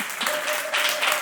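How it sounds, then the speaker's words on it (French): An audience claps for the Black contestant at a live comedy show, a short burst of dense, steady applause with no voices over it. "Applaudissez pour le noir."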